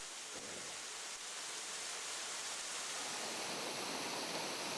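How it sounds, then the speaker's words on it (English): A rushing waterfall in the Smoky Mountains roars as a steady, dense wash of falling water, unbroken and even for the whole stretch, with no voices. "Falling water."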